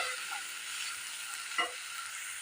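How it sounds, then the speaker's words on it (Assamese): Raw ground spice paste fries over a high flame for a paneer dish, a continuous hissing sizzle with a couple of brief scraping stirs of a spoon in the pan. "এই মছলাখিনি মই হাই ফ্লেমত ভাজি থাকিম।"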